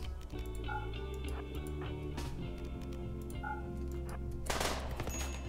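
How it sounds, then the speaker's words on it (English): An automated turret in the colony game Rimworld lets off rapid bursts of gunfire, crackling shots repeating over a low droning music bed, with a brief louder burst near the end. "Oh, and the turret's gonna kill him."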